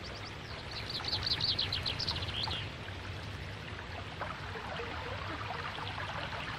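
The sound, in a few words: birds calling by a river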